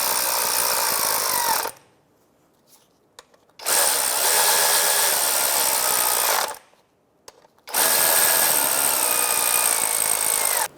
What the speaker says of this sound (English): 13mm socket, and we're just going to snug these up and then we'll torque it down